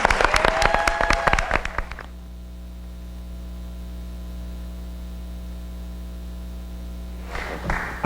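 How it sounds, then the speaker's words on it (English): A conference room audience at an arts capacity-building conference applauds briefly for about two seconds, a crisp burst of claps that cuts off into a steady electrical hum before faint voices return. "Can we have a round of applause for Karen?"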